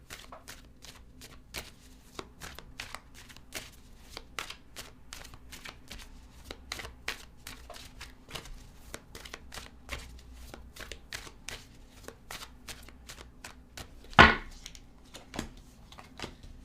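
Tarot cards shuffled by hand in a steady stream of crisp riffling flicks, close and fairly quiet, with one sharper louder snap near the end.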